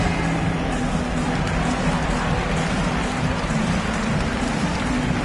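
Arena crowd in an NBA 2K basketball game roaring without a break, a dense, loud wall of cheering with no voices standing out.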